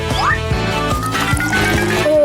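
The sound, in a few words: hot chocolate being poured into a mug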